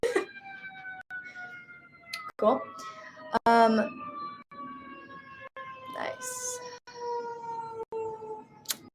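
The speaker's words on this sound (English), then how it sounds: "Sorry for the sirens outside." A siren wails outside, its pitch slowly drifting downward over several seconds, while someone talks nearby indoors over it.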